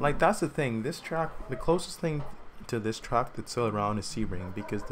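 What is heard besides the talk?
No distinct noise like a dog, phone or traffic.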